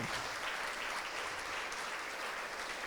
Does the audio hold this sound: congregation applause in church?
yes